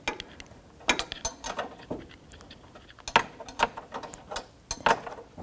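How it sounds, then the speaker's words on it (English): A 13mm wrench works at a condenser hose bolt on a 2007-2017 Jeep Patriot 2.4L, making a series of close metallic clicks, ratcheting taps and clinks in an irregular rhythm, no speech. "13mm wrench or socket. We're going to break this bolt free."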